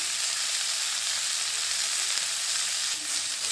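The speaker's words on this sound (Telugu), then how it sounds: "ఈ పల్లీలు పౌడర్ వేసుకున్న తర్వాత కొద్దిసేపు డీప్ ఫ్రై చేసుకోవాలి" Fenugreek leaves with peanut powder deep fry in oil, a loud, continuous close hiss and crackle without pause, no voices.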